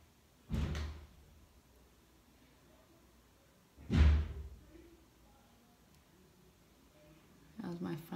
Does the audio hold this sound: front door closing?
yes